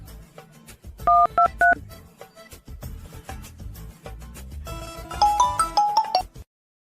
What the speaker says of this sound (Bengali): ফোন লাগাই তুমি দেখি।